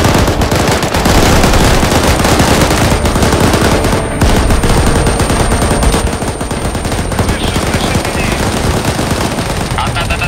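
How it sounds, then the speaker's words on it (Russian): Heavy machine gun fire in a WOG airsoft game rattles in long, dense bursts that stay loud and nearly continuous, close to the listener. "Пулеметчики, готовьтесь зажимать"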